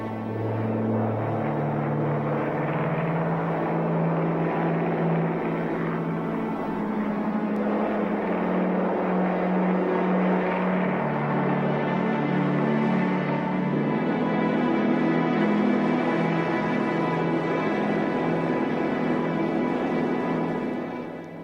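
German WWII aircraft, among them Junkers transports, flying over Crete during the airborne invasion: a loud, continuous multi-engine propeller drone with steady low harmonics, sustained throughout without speech.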